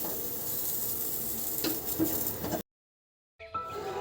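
Steady sizzling hiss of potatoes frying in a pan, continuous for a few seconds, then a brief silence before the sizzle resumes.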